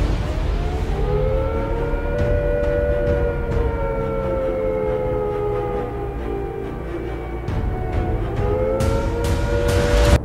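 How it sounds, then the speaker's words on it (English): A Cold War civil defence air attack warning siren wails loudly and steadily, its pitch rising and falling slowly over a rumbling background, with a short dip before it climbs again. "If attack is imminent, you will hear the attack sound like this."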